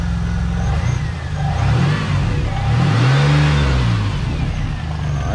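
A Nissan 370Z engine hums steadily and rises into a couple of revs, loud and close, with a low rumble throughout and no tapping.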